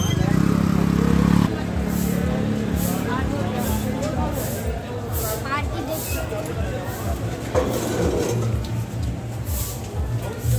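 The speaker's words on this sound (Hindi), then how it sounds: "इतनी चढ़ाई में इतने स्कूटर ऊपर तक आ जाते हैं।" Scooters riding up a steep hill road on the way to Mansa Devi temple in Haridwar, engines droning and passing by amid a busy crowd's murmur and clatter.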